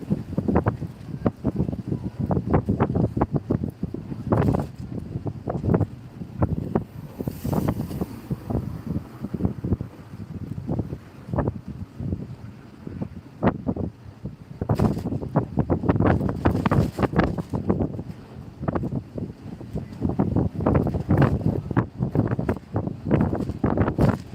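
Strong wind gusting across Fenit Pier, a steady blustery roar with buffeting rumbles and rustle near the microphone, continuous and fairly loud throughout with no talking.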